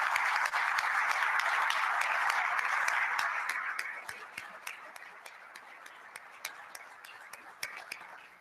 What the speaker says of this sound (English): So let's give these ladies a round of applause as well as our sponsors.